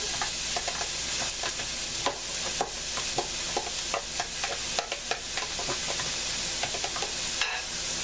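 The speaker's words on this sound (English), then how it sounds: "So now I'm going to add the garlic and onions to the pan." Garlic and onions sizzle in a frying pan with a constant close hiss, broken by repeated clicks and scrapes as the pieces are stirred. No talking.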